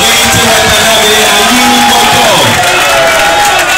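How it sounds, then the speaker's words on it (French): A crowd at a public event with an ambassador cheers and shouts loudly, a dense, close wash of voices and whoops with music running underneath. "Vos applaudissements, s'il vous plaît."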